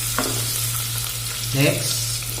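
Garlic fries in hot cooking oil in a pan, giving off a steady, close sizzle with a low hum underneath. Brief stirring sounds come through, and a voice speaks briefly over the frying.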